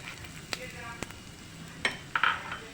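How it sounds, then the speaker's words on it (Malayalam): Chopped ginger dropped into hot oil in a pan while making squid curry, giving a faint sizzle with a few light clinks and stirring scrapes. "ഞാനൊരു രണ്ട് കഷ്ണം ഇഞ്ചിയാണ് അരിഞ്ഞത് അത് നമുക്ക് അതിലേക്ക് ഇട്ട് കൊടുക്കാം"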